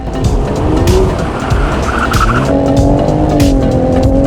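A modded Toyota Supra's tires squeal loudly as it slides, engine roaring close by, with the screech sustained over several seconds.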